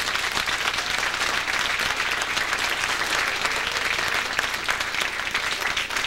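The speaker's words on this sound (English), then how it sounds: "let's give these kids a great round of applause" A school band concert audience gives a loud, sustained round of applause, dense and even clapping from a full room with no pauses.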